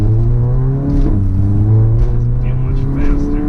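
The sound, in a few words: car upshifting with tuned DSG transmission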